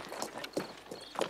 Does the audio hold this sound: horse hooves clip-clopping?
yes